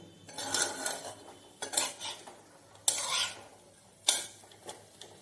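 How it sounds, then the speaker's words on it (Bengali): Capsicum and onion are stirred into chicken in a pan, with four separate scraping strokes of a utensil against metal, each followed by a soft sizzle. The sounds are close and fairly quiet. "এটা ভাজা ভাজাও না, জাস্ট একটু সামান্য নাড়াচাড়া করে মাংসের মধ্যে দিয়ে দেবো"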